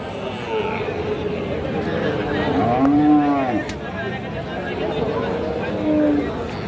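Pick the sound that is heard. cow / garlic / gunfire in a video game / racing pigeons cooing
cow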